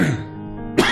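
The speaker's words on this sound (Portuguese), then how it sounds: "Um pouco de tosse." A single short cough from a man, close and dry, followed by a brief second burst of breath at the end.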